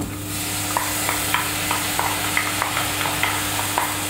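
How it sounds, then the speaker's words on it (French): Split peas and basmati rice sauté with onions in a pan, a soft continuous sizzle broken by regular light scraping stirs roughly every half second, steady and close with no voices. "Voilà, les pois cassés sont en train de revenir."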